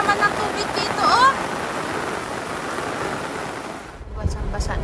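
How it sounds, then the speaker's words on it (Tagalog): Fast-moving floodwater rushes across a rural road during Typhoon Goring in the Philippines, a steady broadband roar of flowing water close by, with someone talking briefly over it and a short louder splash toward the end. "Mabilis naman ang tubig dito, oh."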